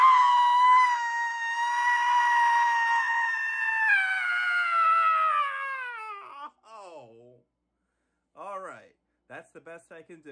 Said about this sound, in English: here comes the very loudest and longest scream ever